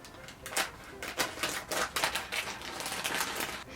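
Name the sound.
chip bag being cut open on the side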